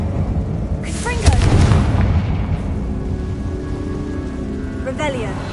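Confringo blasting spells explode in Hogwarts Legacy, a burst of booming blasts near the start and a smaller crackle near the end over steady game rumble, with no one talking.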